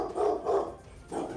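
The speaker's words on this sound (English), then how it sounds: "Is that your puppy, Nick?" A puppy barks in three short bursts, fairly close and clear, with quiet gaps between them and no talk over it.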